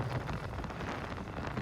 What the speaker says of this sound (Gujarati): જો વરસાદ ચાલુ છે